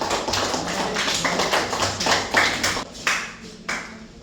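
A group of students in a classroom lesson gets a round of applause, irregular hand claps and taps sounding at moderate loudness for a few seconds with no talk over them.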